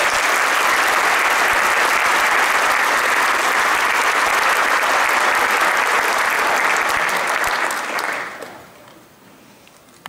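Commencement audience at a business school graduation applauds to welcome the speaker to the podium. The loud, dense clapping is sustained for about eight seconds, then quickly thins out and fades to near silence.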